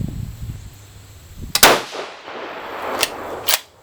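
A 6mm Creedmoor rifle loaded with Staball 6.5 powder fires a hangfire round: a sharp, loud crack with a ringing tail outdoors, followed by two fainter, shorter metallic clacks.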